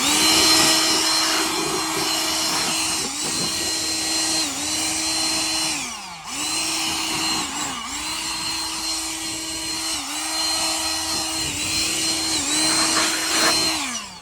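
Ozito PXC 18V cordless high volume inflator blowing air, a loud steady motor whine with a rushing airflow hiss, briefly dipping and restarting several times as it is switched or moved, no talking.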